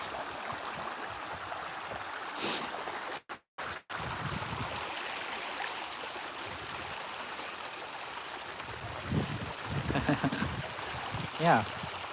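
A small creek runs beside a parked off-road pickup motor home, its water making a steady, soft rushing flow with a brief dropout partway through. Faint voices and handling noises rise near the end.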